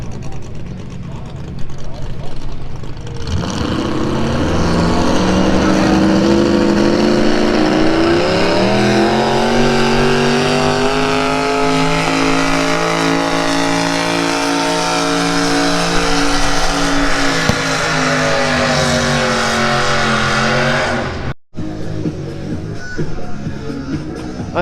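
Pulling tractor at a country show's tractor pull, a loud, sustained engine roar that swells and climbs in pitch as it hauls the sled, then cuts off abruptly near the end, with people talking in the background.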